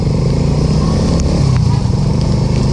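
A motorcycle engine runs hard on a muddy off-road endurance course, a steady, loud and unbroken roar with faint clatter and no pause.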